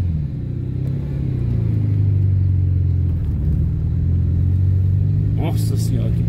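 A heavily loaded car, carrying over 500 kilograms, creeps slowly over rough rural ground in Minas Gerais with a steady low engine rumble and drone throughout, and a brief scraping knock near the end; a voice talks over it.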